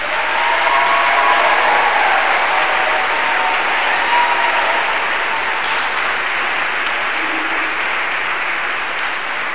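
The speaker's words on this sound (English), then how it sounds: "I would just like a round of applause to the class of 2022 because we finally made it" Loud, sustained applause from the audience at a Catholic preparatory school's baccalaureate Mass and graduation ceremony for the class of 2022, a dense steady wash of clapping filling a large hall for nearly ten seconds.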